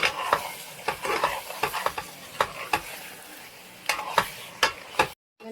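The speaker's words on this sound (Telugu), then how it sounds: "చక్కగా కొంచెం చిన్నగా స్లోగా కలుపుకోవాలండి" Chicken leg pieces are stirred slowly in a simmering curry in a pan, with repeated distinct spoon scrapes and clacks over a soft sizzle, then a brief silence at the end.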